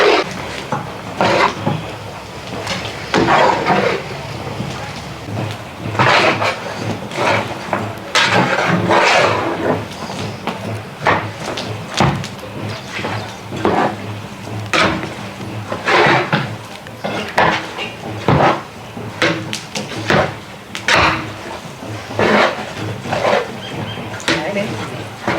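Chicken is stirred in a cooking pot, with repeated scraping and clattering of a utensil against the pot in an uneven rhythm, close and fairly loud, while people talk in the background.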